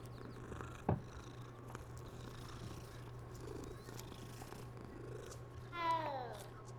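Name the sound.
cat purring when petted in the video game Hogwarts Legacy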